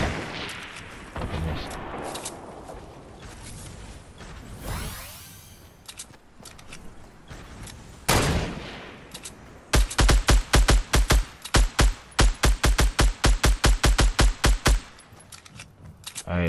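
Rapid gunfire in Fortnite Battle Royale: a few scattered shots and whooshes, then a dense run of loud, evenly spaced bursts firing close, with occasional voices underneath.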